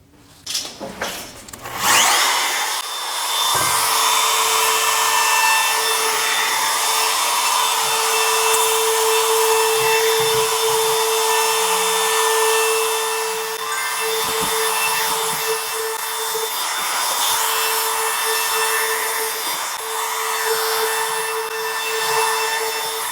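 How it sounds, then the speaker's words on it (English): A router fitted with a small round-over bit rounds the sharp corners of a wooden work table, starting with a few knocks and then a steady, loud, high whine of cutting that runs continuously. "round over these extremely sharp corners. Now you can also sand them with an orbital sander, but I'm going to use a small round over bit"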